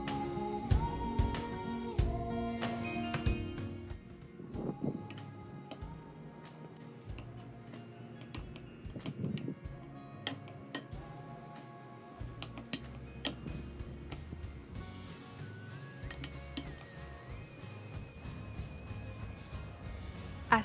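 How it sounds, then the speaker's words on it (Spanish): A spoon stirs ginger, white pepper and wonton filling in a bowl, giving soft irregular clinks and scrapes at close range, quiet with busy ticking contact sounds throughout. "Con la ayuda de una cuchara, lo removemos todo muy bien."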